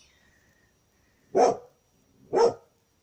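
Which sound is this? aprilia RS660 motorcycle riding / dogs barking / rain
dogs barking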